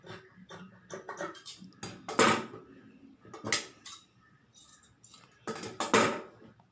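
Scissors snipping through churidar fabric during a tailoring cut, giving irregular close, crisp metallic clicks and slicing strokes that swell to louder snips now and then. The cuts are quiet and heard alone.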